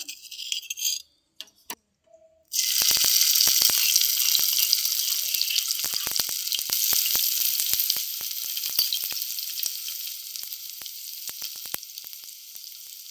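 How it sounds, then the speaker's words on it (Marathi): Crushed green chilli and garlic drop into hot oil and erupt into a loud, bright, continuous sizzle that gradually eases, close up, with a few brief clicks and clatters beforehand. "हिरवी मिरची आणि लसूण ही अशी कुटून घेतलेली आहे तर ती आपण तेलात फ्राय करून घेऊया"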